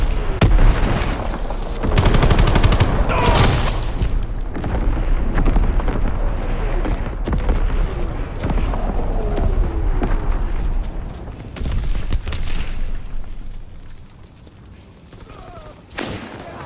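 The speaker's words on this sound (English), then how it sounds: "Incoming enemy artillery!" Enemy artillery shells and bombs explode over and over in a war video game, loud booming blasts mixed with rattling gunfire, dense and continuous before thinning toward the end.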